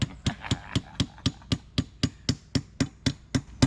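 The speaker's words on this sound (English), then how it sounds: "Hammer time!" Hammer striking a tent support pole at a campsite, about fourteen sharp, evenly spaced blows in a steady rhythm, close and clear with no talking.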